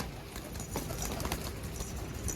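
Pigeons kept and trained at home coo softly nearby, low murmuring calls under a busy, rustling background.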